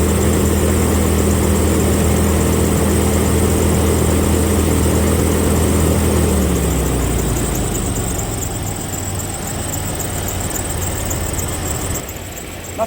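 A Jeep Grand Cherokee 4.0 engine with a suspected head gasket problem revving up from idle, a loud close rumbling roar that holds steady, then settles back toward a lower idle.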